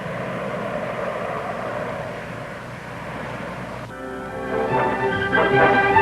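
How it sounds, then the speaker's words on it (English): Convair 880 jet airliner engines give a loud, steady broadband roar that gives way to a high, tonal turbine whine with layered harmonics, growing louder toward the end. "the most advanced jet airliner available to the flying public today"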